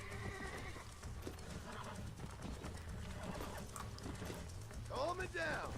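Horse neighing and whinnying while being broken in the Red Dead Redemption video game, with hoof clops and outdoor ambience; speech runs underneath, and a loud rising whinny stands out near the end.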